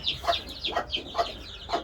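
A few chickens cluck in short, repeated bursts at a steady rhythm, fairly close and moderately loud, with no talking.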